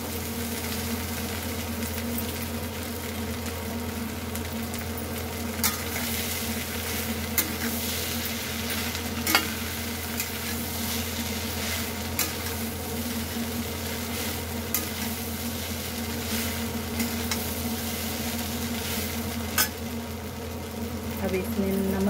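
Potatoes frying in a pan with poha, a steady low sizzle and hum running throughout, with occasional faint scrapes and taps from stirring, quiet and close.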